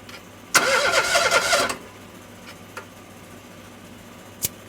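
A car engine cranks over on the starter for about a second during a compression test, a rapid rhythmic churning burst, then stops; a couple of faint knocks follow in a quiet workshop.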